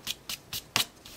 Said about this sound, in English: come in here with an eraser. Let's get rid of those pencil lines.